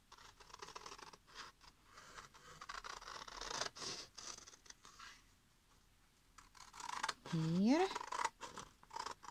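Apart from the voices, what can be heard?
cutting out a cardstock box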